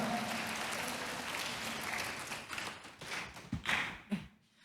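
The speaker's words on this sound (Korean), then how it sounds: "여러분들 박수 한번 부탁드리겠습니다" Audience applause at a job fair recruitment briefing in Saemangeum, a dense patter of many hands clapping steadily, then thinning into scattered claps and a few louder isolated ones before fading out.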